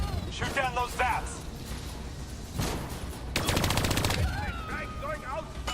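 Rapid automatic gunfire bursts in Call of Duty Black Ops 3, with dense rattling volleys mid-clip, mechanical clatter and game voices talking around the shooting.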